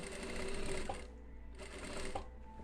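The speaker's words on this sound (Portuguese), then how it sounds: "Esse pé calcador, ele é muito bom." A sewing machine stitching a blouse with a presser foot, close steady whirring runs broken by a brief slowdown, loud and alone with no talk.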